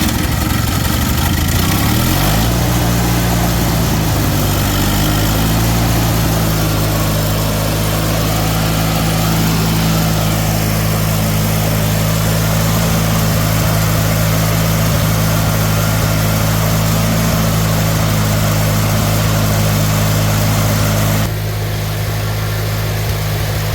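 A Coleman Powerhouse generator, just reassembled, cranks over in the first seconds and catches, then settles into a loud, steady running drone that holds close and constant throughout.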